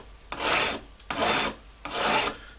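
A hand file rasps across a carved bone fish hook in three long, even strokes with short pauses between them. Each pass is close and gritty. No speech is heard.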